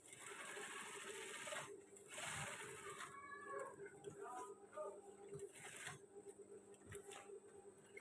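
Sewing machine stitching all the way around a pair of trousers, with bursts of rapid mechanical whirring separated by short pauses and fabric handling sounds, heard up close.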